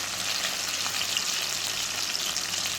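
Fresh herbs, garlic and sweet pepper sauté in a hot pan for Jamaican corned beef and spaghetti, giving a steady, loud, even sizzle with no talking.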